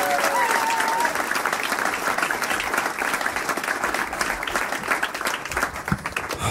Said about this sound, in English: Please make some noise for Dan Cummins.